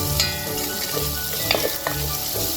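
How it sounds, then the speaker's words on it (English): Onion, ginger and crushed garlic toss and fry in a pan for beef stew, giving a loud, continuous sizzle with a few brief scraping and tossing accents. No voices. "Now that we've tossed our onion, ginger and garlic for a minute or so"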